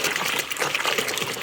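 Water sloshes and swirls steadily as Dove shampoo is stirred into warm water for a hand and foot soak, a continuous close liquid churning with no pauses.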